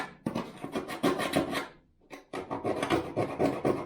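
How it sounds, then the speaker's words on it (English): Steel being scribed with a sharp scribe during a VW T2 camper van cargo floor repair, a close run of quick rasping scratches, a short pause, then another burst of strokes. "I try and scratch the steel if I can"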